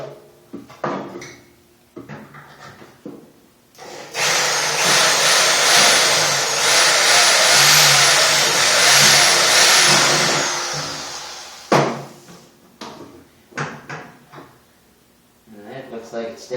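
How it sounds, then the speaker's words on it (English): A power drill bores a hole during a cyclekart engine install in a workshop, whining loudly and steadily for several seconds with rising and falling pitch, framed by scattered clunks and handling knocks before and after. "I'm going to set up the drill and drill a hole."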